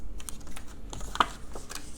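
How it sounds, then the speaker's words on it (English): Scissors snip through paper in a string of short, crisp clicks close by, with one sharper cut standing out midway. "Now you're gonna take your scissors and you're just gonna cut straight up."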